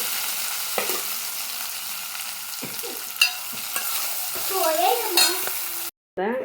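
Spices crackle and sizzle in hot oil, with a few spoon taps and scrapes against the pan and a brief squeaky sound before it cuts off.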